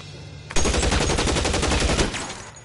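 Sustained automatic gunfire in the 1940s Los Angeles crime game LA Noire, a dense rapid burst starting abruptly and rattling loudly for about a second and a half before tapering off, with no talk over it.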